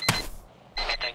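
Alarm clock ringing in the military video game ArmA 2, two short bursts of shrill electronic beeping separated by a brief pause, loud and close with no talking.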